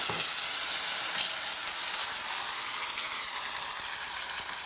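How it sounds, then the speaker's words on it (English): Vegetables sizzle hard in rendered lamb fat in a hot pan, a loud, continuous hissing crackle that stays close and even throughout, with no talking over it. "And now this will both sizzle and smoke,"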